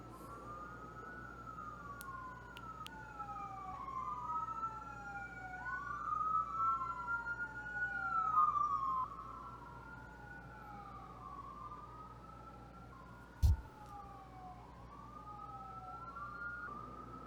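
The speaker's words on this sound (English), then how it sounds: "You know, there's an ambulance coming." An ambulance siren wails in a repeating rising-and-falling pattern from a moderate distance, holding steady for the length of the clip, with one brief sharp knock partway through.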